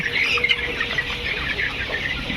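Hy-Line layer hens in a freshly cleaned poultry shed, a dense, steady murmur of many birds clucking and chattering at once, with no voices over it.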